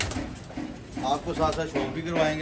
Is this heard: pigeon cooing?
yes